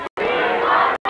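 A wrestling crowd at a 1991 six-man tag match at a summer town festival chants loudly in unison, short rhythmic bursts separated by brief pauses.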